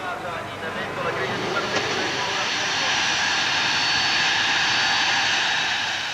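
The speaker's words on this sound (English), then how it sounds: "Ayrton Senna flies into Milan in his own private jet." Private jet aircraft engine, a steady broadband roar that swells slightly louder over a few seconds, heard continuously as if from nearby on or around the airfield.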